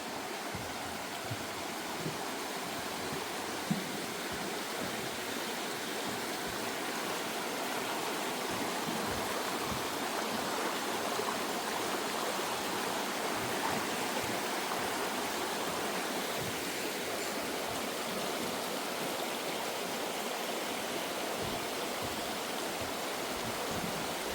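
A river flows beneath a wooden footbridge, its broad continuous rushing wash steady and unbroken throughout with no voices.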